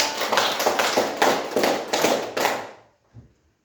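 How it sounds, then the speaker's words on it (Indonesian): A classroom audience claps for a student presenter in a coding and AI lesson: a short run of loud, evenly spaced group claps in a brisk rhythm that stops abruptly, then a single faint knock. "kita kasih aplaus untuk Ramon"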